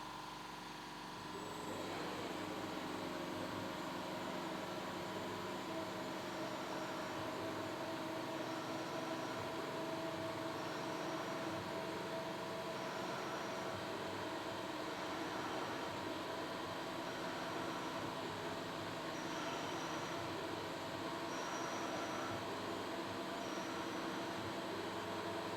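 A Schaublin lathe runs steadily while cutting a thread, with a continuous, even mechanical hum and whine that holds at a moderate level for the whole stretch after a brief quieter start, and no voices.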